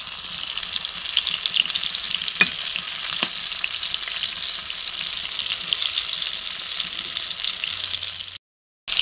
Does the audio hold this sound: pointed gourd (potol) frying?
yes